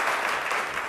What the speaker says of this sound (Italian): con l'applauso delle due proloco in studio